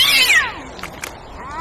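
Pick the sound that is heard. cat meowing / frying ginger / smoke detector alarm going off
cat meowing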